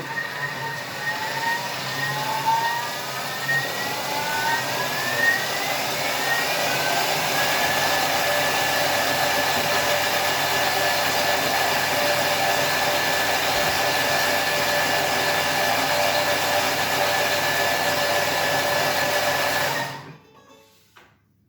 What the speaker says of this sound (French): Et on mixe le tout 20 secondes à vitesse 8